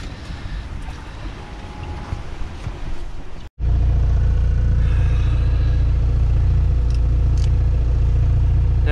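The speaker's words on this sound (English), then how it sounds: "Just got motor going." A sailboat's motor runs steadily and loudly at sea after a brief cutout, a constant low engine drone with wind and water noise mixed in.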